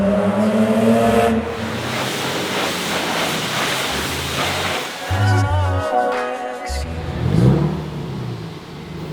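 A custom-built car's engine runs and revs, a steady throaty drone that rises and falls, with an outdoor breeze-like rush and brief louder bursts near the end.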